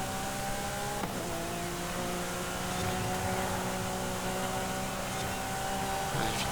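A one-off Italian hypercar in Forza Horizon 5 drives at a steady, loud engine drone with sustained harmonic tones, holding the same pitch throughout with a brief shift near the start, and no talk.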